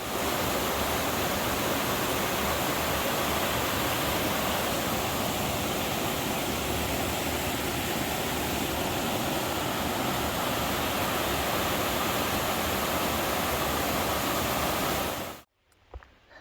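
Rushing cascades and waterfalls along the Kennebec River in Maine, a steady, loud broadband roar of tumbling water heard close by, unbroken for about fifteen seconds before cutting off abruptly.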